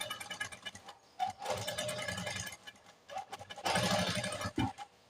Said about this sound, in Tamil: அப்படியே தையல் போட ஆரம்பிக்கிறேன்